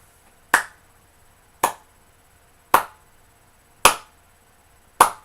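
Five single hand claps, loud and sharp, spaced evenly about a second apart in a slow, deliberate rhythm, otherwise quiet.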